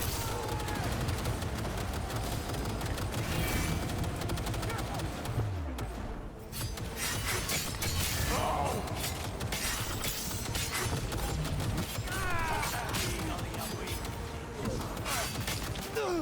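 Turret gunfire in Cyberpunk 2077 rattles in sustained bursts alongside shattering impacts and other combat noise, loud and dense across the whole stretch.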